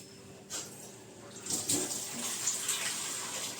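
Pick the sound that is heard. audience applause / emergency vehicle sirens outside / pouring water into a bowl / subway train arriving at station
pouring water into a bowl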